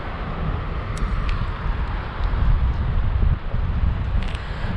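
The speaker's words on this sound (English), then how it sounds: "It's so windy out here." Steady, blustery wind on a beach buffets the microphone in a continuous low rumble, with no voices.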